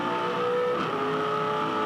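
A 2005 Supercars race car at Hidden Valley Raceway brakes and flat shifts through corners. Its engine note holds a steady, strained whine, then pitch drops sharply at a shift before climbing back, heard continuously and fairly close.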